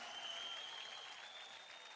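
A studio audience at a televised dance competition applauds a performer with a steady, faint wash of clapping and a thin sustained tone above it.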